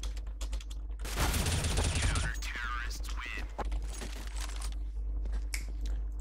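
Gunfire in a one-on-one video game tournament match, with bursts of shots and some keyboard clicking, heard under excited talk.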